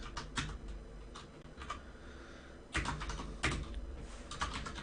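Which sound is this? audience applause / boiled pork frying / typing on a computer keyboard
typing on a computer keyboard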